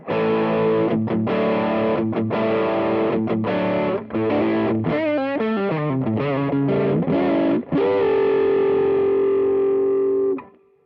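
A distorted Fender American Deluxe Telecaster plays a run of chopped chords and a quick bending riff, then rings out on a sustained overdriven chord before cutting off.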